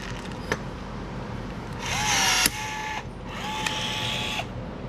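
Two bursts of a cordless Milwaukee M12 power tool setting rivets while building a custom SPAL fan shroud, each a whirring buzz of about a second with a rising then steady pitch, fairly close, separated by short pauses and a couple of sharp clicks.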